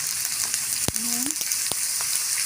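Potatoes and flat beans sizzle steadily in a pan with turmeric powder and salt, a continuous close frying hiss broken by a couple of sharp utensil taps and a brief scrape; no one speaks.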